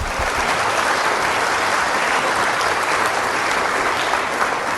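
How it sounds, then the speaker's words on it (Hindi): An audience at a quiz show in a Buddhist vihara claps loudly and continuously, a dense even wave of applause filling the whole stretch. "जोरदार तालियां"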